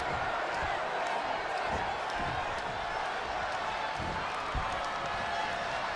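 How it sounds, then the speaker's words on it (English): A loud indoor crowd in the WWE 2K20 video game roars and cheers steadily, a dense wall of voices with occasional thuds and claps, at a Birmingham arena. "just listen to this Birmingham crowd as this one gets underway. They're deafening."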